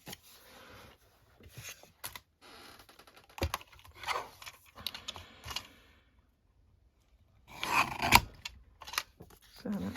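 Scissors trimming a modern book page for junk journal ephemera, several soft snips and paper rustles close by, separated by quiet gaps, with faint handling noise throughout.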